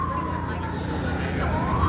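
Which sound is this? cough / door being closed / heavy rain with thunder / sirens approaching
sirens approaching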